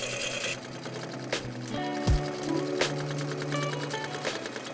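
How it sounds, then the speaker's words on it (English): A sewing machine top-stitching the waistband of a skirt made from a bedsheet, running in short whirring bursts with mechanical clicks and a thump in between, close by and with no speech. "I'm also gonna do a top stitch on the top of the waistband."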